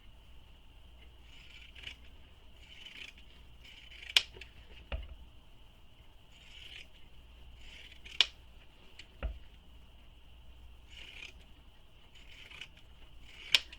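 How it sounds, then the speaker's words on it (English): Sharp scissors trim the fabric seam allowance on a mini messenger bag sewing project, a series of close, quiet snips and clicks at an irregular pace, with no talking. "First, I'm going to actually trim my seam allowance."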